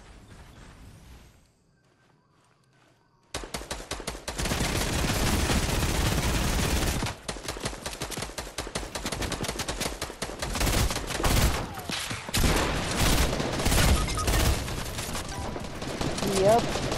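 A video game firefight erupts after a brief near-silent lull, loud rapid gunfire crackling in dense bursts that continue to the end with a few short gaps.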